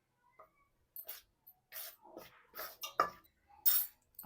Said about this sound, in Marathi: हे मोहन आधी आपण चमच्याने मिक्स करून घेऊया.